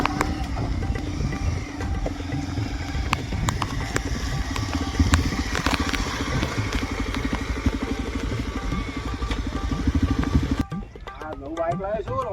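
A motorbike engine runs close by with a steady rough rumble for about ten seconds, someone talking over it, then cuts off leaving just voices.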